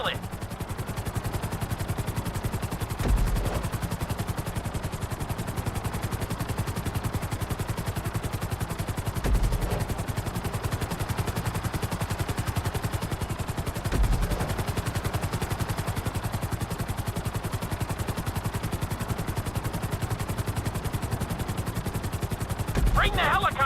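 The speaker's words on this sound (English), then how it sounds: "Bring the helicopter down gently onto the helipad." A helicopter in the GTA 5 Flight School mission drones with a steady, continuous rotor chop throughout, loud and close, with occasional thumps and a game voice talking over it.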